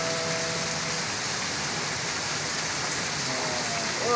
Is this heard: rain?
yes